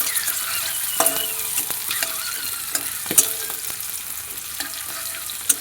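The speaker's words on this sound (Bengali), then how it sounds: "আগে ডিম কড়াটা ভেজে নিচ্ছি, কারণ ডিম কড়াটা ভাজতে অনেক সময় লাগে।" Egg sizzles and spits in a hot pan for chow mein, a steady bright crackle with occasional scrapes and clinks of a spatula stirring, close up and with no talking.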